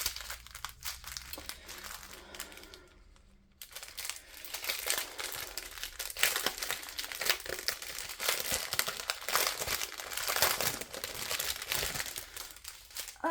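Plastic packaging of a diamond painting kit is opened close up, a loud, continuous crinkling and rustling with a brief pause early on, then steady crackling without speech.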